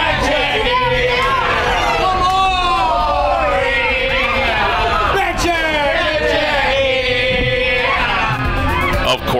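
A crowd at a fish market watching fish being thrown, a loud, close hubbub of many voices with shouts and cheering rising and falling throughout.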